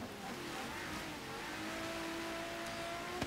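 The engine of a Quartz Regalia car in Forza Horizon 3, climbing a snowy hill: a steady, strained drone holding a high rev, with a brief tyre-squeal flick near the end, and no talk.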